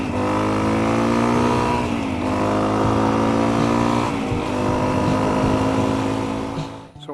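Dual sport dirt bike engine running steadily under riding load, a loud, continuous motor drone with stable harmonics and slight pitch dips around shifts, no talk over it.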